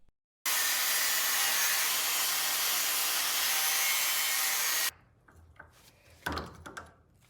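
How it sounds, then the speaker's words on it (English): An angle grinder cuts into a brake caliper piston during a Toyota MR2 brake rebuild, a loud, steady, harsh grinding whine for about four seconds that stops abruptly, followed by quieter clinks and handling noises. "I have to remove this one with the help of an angle grinder"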